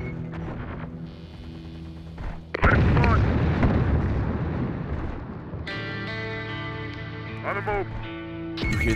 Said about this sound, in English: Someone's in a firefight with Legion.